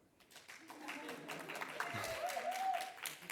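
Light audience clapping at the start of an academic population genetics talk, a soft patter of hands from a small room that builds slightly while a voice speaks over it.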